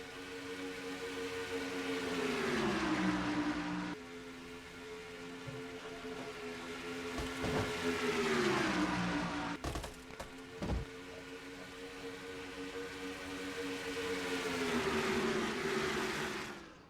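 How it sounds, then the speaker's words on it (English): Stock cars racing at Atlanta in a NNSCRA Castrol GTX Cup Series event, engines droning loudly as a pack passes, pitch rising and falling in waves with a couple of sharp knocks midway. "Listen to these cars."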